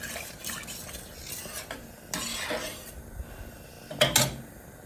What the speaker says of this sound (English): we're going to stir that in